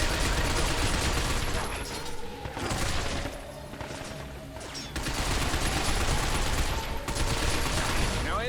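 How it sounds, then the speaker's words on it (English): Sustained gunfire aimed at robots in Binary Domain, dense overlapping automatic bursts forming a steady roar with a brief lull midway, and speech faintly mixed beneath. "Stop them by shooting their legs."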